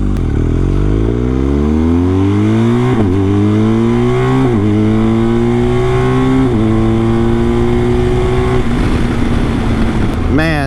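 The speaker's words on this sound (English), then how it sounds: "I'm gonna kind of measure this acceleration here real quick up to the light" A BMW R1250GS motorcycle with a BT-Moto stage 1 upgrade accelerates hard through several gears, its loud engine note rising and dropping at each shift, recorded close from the rider's position.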